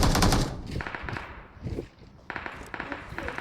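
Bursts of automatic gunfire from a PUBG Mobile match, loud rapid firing at the start, then scattered shots and movement with talk from players throughout.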